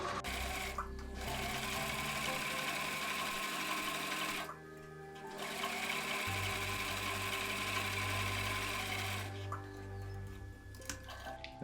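A sewing machine runs steadily while stitching a homemade face mask, its motor whirring continuously close by with brief pauses and a short stop near the middle before it resumes.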